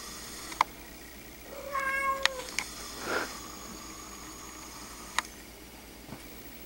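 Cats buzzed on catnip, meowing in short high calls and a drawn-out yowl midway, with a few sharp ticks and clicks around them, fairly faint and close in a quiet room.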